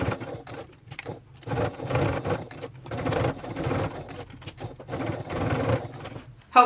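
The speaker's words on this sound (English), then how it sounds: "let's go back to our sewing machine, and we're going to stitch across that 1 inch line" A sewing machine stitches across a marked line on a travel bag, running in several short bursts with brief pauses between them, close and moderately loud.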